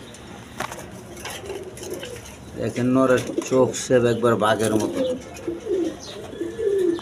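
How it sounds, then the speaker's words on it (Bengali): A pair of Andalusian colour Danish pigeons cooing at close range, soft repeated coos mixed under someone talking over them. "এখানে এক পেয়ার অ্যান্ডোলেশিয়ান কালার ডেনিশ কবুতর আছে"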